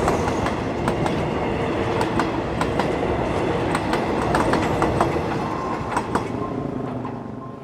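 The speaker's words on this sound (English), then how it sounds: "Plenty of trains." An SRT Red Line train passes through urban Bangkok, a steady loud rumble with rhythmic clickety-clack of wheels over rail joints that eases off slightly toward the end.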